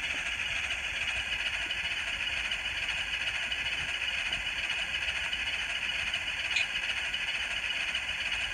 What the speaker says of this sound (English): So that sounds kind of like another GM with a turbo again.